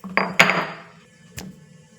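Coriander seeds and a piece of dry ginger are pounded in a stone mortar, giving two sharp close knocks in quick succession, then a softer third thud after a pause.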